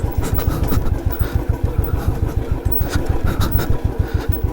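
A motorcycle engine runs close by in a steady rhythmic chug, loud and continuous, beside a footpath on a mountain motor route.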